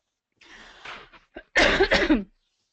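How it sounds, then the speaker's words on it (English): A burst of harsh, throaty coughing: a few rough coughs, then a louder cluster of heavy hacking coughs close to the microphone. "just having a big coughing fit here."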